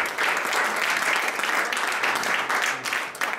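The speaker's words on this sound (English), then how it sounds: "Give the Lord a good clap tonight." A church congregation claps together in a steady, dense wash of applause that fills the room and holds at an even loudness throughout, with no voices standing out.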